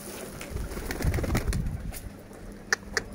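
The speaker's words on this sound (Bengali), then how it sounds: "এগুলো হচ্ছে আমার দেশি কবুতর" Local domestic pigeons at their loft coo softly and steadily, with a rustle of wings and two sharp flaps near the end.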